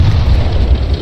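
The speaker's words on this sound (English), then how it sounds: "throw a grenade" A grenade blast in a tank combat video game, a loud, deep, rumbling boom that sustains for about a second, heard alone without talk.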